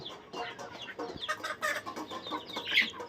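Several chickens cluck and chatter close by in a busy, overlapping stream of short calls, with no talking.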